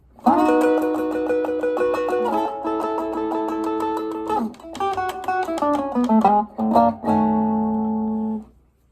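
Electric guitar plays a Chicago blues turnaround alone: sustained ringing chords, then a quicker descending run of picked notes settling on a final held chord.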